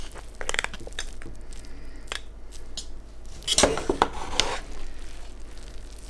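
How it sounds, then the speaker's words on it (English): Cooked Kabuli pulao rice being mixed and broken apart in a pot, giving soft scraping and squishing stirs with a louder burst of spoon-on-pot movement midway, close and alone. "once the dum is done, we need to mix the chawals"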